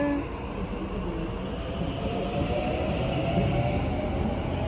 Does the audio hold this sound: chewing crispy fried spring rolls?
no